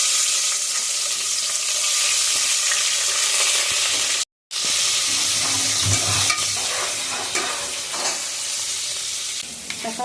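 Onions and cardamom fry in ghee in a pan for a vegetable biryani, giving a steady, loud sizzle with stirring scrapes, briefly cutting out once before resuming.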